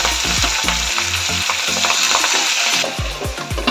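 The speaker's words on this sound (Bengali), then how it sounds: "তেল গরম হয়ে এলে এক এক করে মাছগুলো প্যানের মধ্যে দিয়ে দেব।" Bhetki fish wrapped in banana leaf frying in hot mustard oil in a frying pan, a loud, bright, constant sizzle over a rhythmic low thumping beat.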